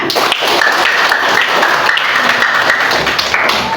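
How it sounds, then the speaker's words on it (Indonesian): Classroom applause for a student named Aditya, a dense patter of many hands clapping steadily for a few seconds, fairly loud and close, with faint voices mixed in. "Tepuk tangan buat Aditya."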